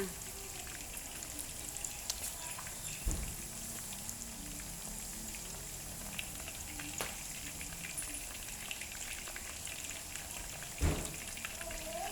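Oil sizzling and crackling steadily as flour-coated chicken wings deep-fry, a soft constant hiss with a couple of sharp knocks.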